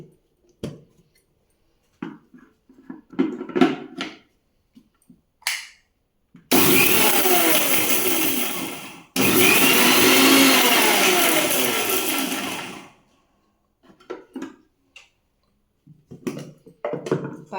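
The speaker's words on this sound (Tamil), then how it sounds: "முதல்ல எள்ளும் இந்த 3 ஏலக்காய் இதையும் போட்டு பொடி பண்ணுறேன்." A mixer grinder whirs loudly as it grinds sesame seeds and three cardamom pods into powder, running in two long steady bursts with a short pause between, bracketed by quiet clinks and handling noises.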